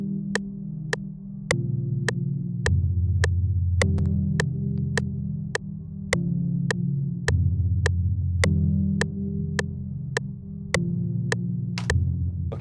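Afrobeats instrumental beat playing back alone, with a steady pattern of sharp ticking hits over a deep, throbbing bass line that shifts between notes every few seconds, loud and continuous throughout.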